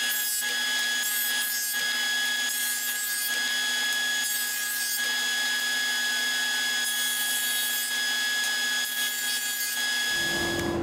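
A small piece of wood is sawn by hand in a woodworking shop, a steady rasping stroke sound running continuously and fairly loud up close, with a machine hum cutting in near the end.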